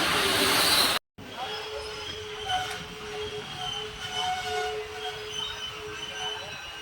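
The Madurai Guruvayur Express passes at a crossing, heard from aboard another train near Bhagavathipuram as a steady rumble with long, thin wheel squeals, following a sharp cut from louder noise.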